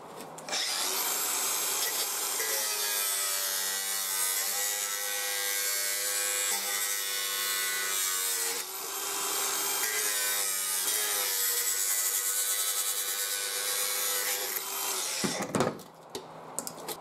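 A cutting tool works through a lip on a part for a custom burger van, giving a steady, loud, continuous grinding-sawing drone for about fifteen seconds before it stops, with no talking.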